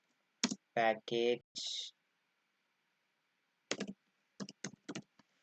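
Computer keyboard typing while writing Flutter code, a spoken word followed by quick clusters of sharp key clicks in short bursts.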